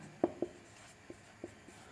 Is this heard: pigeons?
no